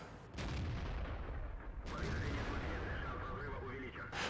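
Two sharp, booming tank cannon blasts in a video game ring out a second and a half apart, each followed by a rumbling tail under faint voices.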